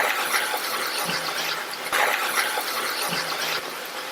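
Masala for masala idli, thinned with a little water, simmers in a pan with a steady close bubbling hiss that holds evenly throughout, with no talking.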